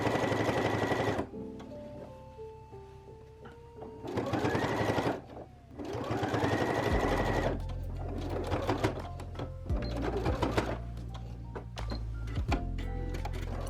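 A sewing machine top stitching along a blouse shoulder seam to attach the lining, running in several bursts of rapid whirring needle chatter separated by brief pauses, close and clear.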